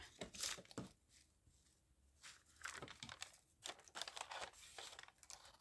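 A small offcut of baby wipe rubbed over spilled craft glue gives close, soft crinkling and scrubbing rustles in irregular bursts, with brief pauses between strokes and no speech.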